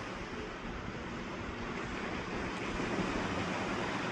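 Small ocean waves at a beach give a constant, even wash of surf mixed with wind noise on the microphone, steady and unbroken throughout, with no speech.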